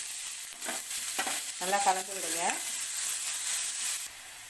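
Finely chopped large onion sizzles in oil in a kadai while being stirred into potato stuffing for bread bajji, a soft steady frying hiss with someone speaking briefly over it.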